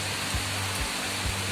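Heavy rain falling in a steady, loud hiss, with a few low thumps every half second or so beneath the downpour and no talk.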